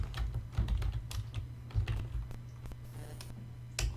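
Keystrokes on a computer keyboard, typing a tag name in a video game editor, come as uneven clicks and taps, close and fairly quiet over a low hum, with no speech.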